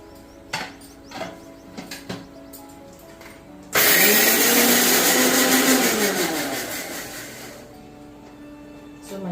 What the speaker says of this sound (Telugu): సో దీన్ని మనము మిక్సీ వేసేసుకుందాము